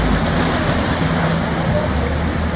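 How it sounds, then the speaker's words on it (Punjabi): Rainwater washes in a continuous broadband rush across a flooded street in Lahore, a loud, steady churn of splashing water with no clear breaks. "ਇਹ ਸਮੁੰਦਰ ਦੀਆਂ ਲਹਿਰਾਂ ਨੇ"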